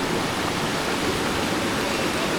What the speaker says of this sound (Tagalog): Mini waterfall.